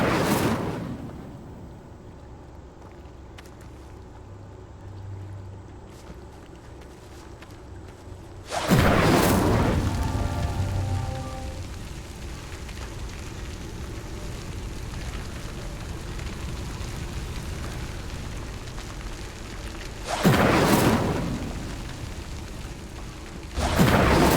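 In a video game, an Incendio fire spell ignites pyres in bursts: a sudden whooshing roar flares up, crackles and settles into a low sustained burning hiss, then another fiery burst erupts later, with no voices.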